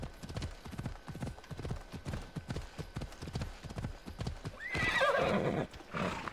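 Horse ridden in Assassin's Creed Odyssey, with steady rhythmic hoofbeats at a gallop close up, followed by a loud neigh near the end.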